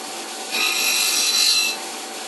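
A CNC machine slowly milling an FX-4WD top arm gives a steady grinding rasp that swells louder for just over a second in the middle before falling back to a lower whir, with no talking.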